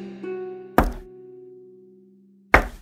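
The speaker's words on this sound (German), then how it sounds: "Und dann hörte sie ein Klopfen an der Tür." Sharp knocks on a door in a fairy tale setting, two loud isolated raps separated by a pause, heard over a sustained musical tone that fades between them.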